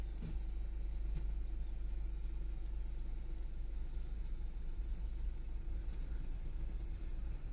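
Steady low engine rumble from inside a car as it pulls away gently at low speed, with a DJI Mavic Mini drone overhead tracking it. The drone itself is not clearly picked out, and nobody talks.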